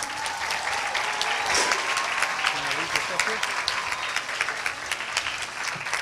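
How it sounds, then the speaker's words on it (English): Audience applause at a 2017 Marion County Veterans Day ceremony, a steady outdoor crowd clapping that holds for about six seconds, with faint voices mixed in under it. "Big hand of applause."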